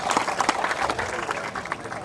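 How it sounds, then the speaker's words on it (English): Audience in a hall at a Sir Syed Day celebration clapping for the Vice Chancellor, a dense, fairly loud burst of many hands with some voices mixed in the crowd. "give him a big round of applause to the Vice Chancellor"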